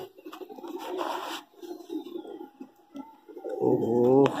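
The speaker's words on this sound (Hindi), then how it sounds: "क्या कबूतर है" A high flyer pigeon coos in soft, throaty bursts, close and intermittent, with a louder warbling coo near the end and faint background noise between calls.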